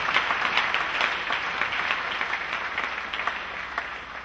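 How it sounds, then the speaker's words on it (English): Church congregation applause continues in a sustained, even patter of many clapping hands, somewhat distant, with regular sharper claps standing out from the wash. "Clap for Jesus again"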